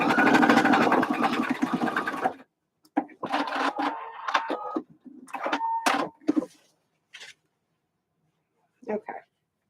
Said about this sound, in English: I'm sewing on this side, and I'm going to find a spot on my presser foot